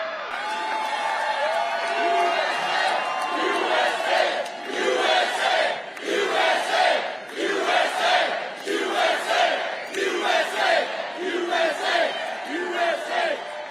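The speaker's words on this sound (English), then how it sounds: "what a nice crowd this is" A large crowd at a campaign rally in Green Bay cheers and roars in rising and falling waves, with shouts and whoops over a continuous dense wash of voices.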